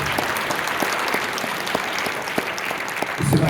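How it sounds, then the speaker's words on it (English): An audience at an evening event with a Holocaust survivor applauds steadily, a dense, sustained wash of clapping throughout, with a slightly louder burst near the end. "Give him a round of applause now."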